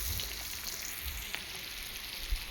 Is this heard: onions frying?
yes